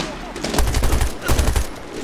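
Gunfire in the Medal of Honor Warfighter video game, dense bursts of rapid shots in two clusters, loud and close with rattling automatic fire.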